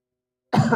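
Sudden cough bursting from silence during an Islamic lecture in a stadium, a single rough, throaty fit blending into throat clearing, loud and close.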